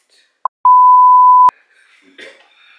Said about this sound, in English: Sorry, I'll beep you out.